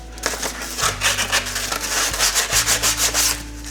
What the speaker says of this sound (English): So here I'm sanding down where I filled in the holes here I showed earlier on.